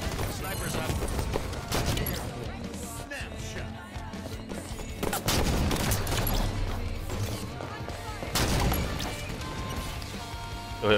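Chaotic gunfire and explosive impacts from a Halo match, with repeated shots and crashing hits over a dense, busy game soundscape, while a commentator talks over the action.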